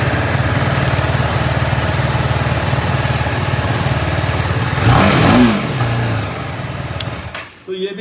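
A used superbike with 5,100 km on it, shown for sale at a second-hand dealer, idles with a steady low rumble, then briefly revs louder before settling as the engine cuts out near the end.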